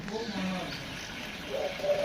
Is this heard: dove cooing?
yes